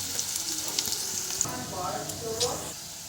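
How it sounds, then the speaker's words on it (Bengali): Chopped onion frying in a pan for a bottle gourd (lauki) curry gives a steady close sizzle that runs throughout, with a few brief scraping stirs and no voices. "যে আমি পেঁয়াজটা ভেজে নেব।"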